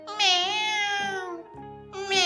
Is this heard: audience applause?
no